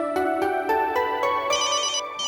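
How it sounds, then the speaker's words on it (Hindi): A mobile phone rings with a bright melodic ringtone, repeating pulsed tones loud and close, playing alone without talk. "ऑफिस का नाम लिया और बॉस का फोन आ गया"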